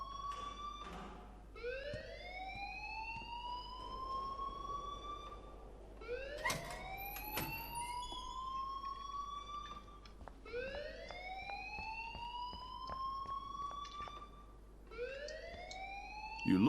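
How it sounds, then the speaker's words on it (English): A wailing alarm in the video game Life is Strange, a rising siren sweep repeating about every four seconds, loud and steady with no voices over it. "please turn off that alarm since that's your job"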